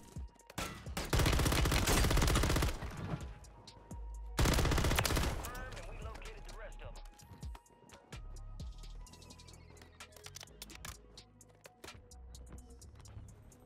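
Rapid RAM 9 gunfire in Call of Duty Warzone on Rebirth Island, two dense loud bursts close together followed by scattered shots and clattering effects.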